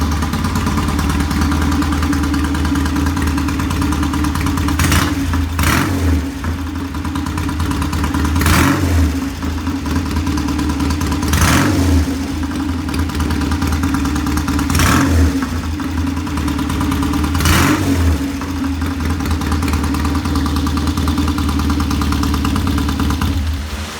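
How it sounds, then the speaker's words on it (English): A vintage British motorcycle engine idles with a steady throbbing beat, broken by sharp throttle blips every few seconds, loud and close with no talk. "The bike runs. It idles, it starts, it revs, the timing is correct."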